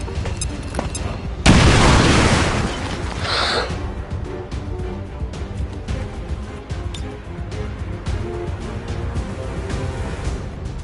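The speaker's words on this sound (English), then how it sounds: "Throwing grenade." A grenade detonates in the turn-based tactics video game XCOM 2, a loud sudden boom that rolls into a decaying rumble, followed by quieter game ambience and scattered small impacts.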